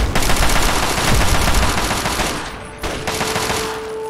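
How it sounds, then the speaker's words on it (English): Gun turret in Fallout 3 firing a loud, rapid, sustained burst of automatic gunfire close by, breaking off briefly near the end and then starting again with another burst. "Oh, it's a turret. It's a frickin' turret."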